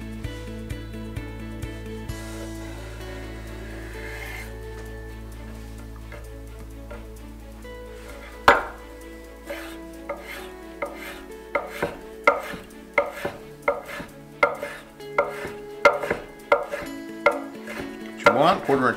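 A kitchen knife chops pork belly into quarter-inch pieces on a board. After a quiet start, crisp close knife strikes come in a steady, quickening run of repeated chops.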